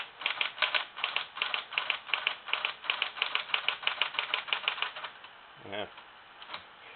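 Rapid, steady clatter of Olivetti Lettera 36 typewriter keys struck one after another for several seconds, then a brief mechanical clunk and a few scattered taps.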